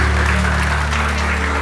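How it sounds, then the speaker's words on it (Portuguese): A church congregation claps together during a worship service, a dense, steady wash of applause that stays loud and continuous throughout the short stretch. "Aplauda o Senhor Jesus bem forte"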